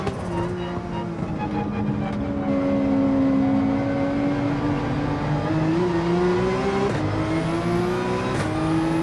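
A race car engine in Gran Turismo 7 revs and pulls through a gear change, rising and dropping in pitch as a steady loud drone, with brief shift blips near the end.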